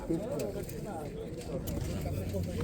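Low, soft cooing of pigeons at a pigeon market in Jedlińsk, Poland, murmuring repeatedly under nearby talk and crowd chatter.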